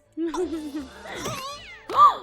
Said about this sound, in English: Oh, It's Angelica. a kitty.